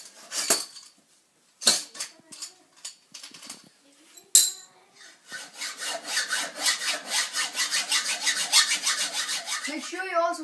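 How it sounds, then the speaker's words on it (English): Rough scraping and rasping strokes, first a few separate pulls with pauses, then a steady rapid back-and-forth sawing through a scooter's hard material, close up. "Next you have to cut 10 centimeters off your scooter."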